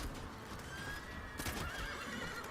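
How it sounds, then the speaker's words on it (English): A horse in The Witcher 3 video game whinnies with a drawn-out, wavering neigh over steady hoof clip-clop, fairly faint and heard alone without talk. "Yeah, I think you're hitting the horse."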